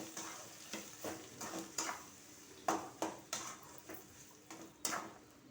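Cauliflower leaf chutney stirred in a pan, a quiet series of rhythmic scrapes and soft clinks against the metal with a faint sizzle underneath. No one talks.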